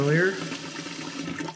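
Water from a kitchen tap runs into a sink while an InSinkErator garbage disposal is being installed, a steady close splashing stream with a brief louder tonal burst at the start.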